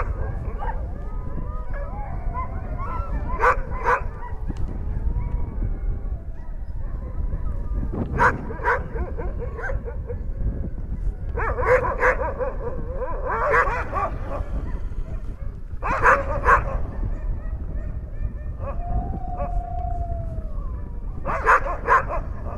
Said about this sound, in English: Dogs are a big part of Greenland